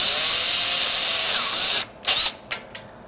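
A power driver sets a T30 fastener into a door hinge on an enclosure, whirring steadily and loudly before stopping, followed by a few short bursts as the screw snugs down.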